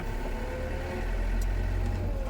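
A tractor engine rumbles steadily at low pitch while driving through wet mud in an orchard, a continuous labored drone with no talking.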